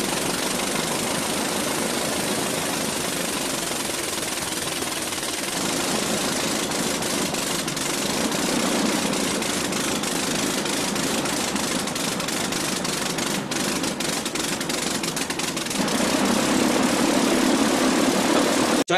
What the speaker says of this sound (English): I'm going to show you a little bit of video right now so you can hear and see what their engine looked like.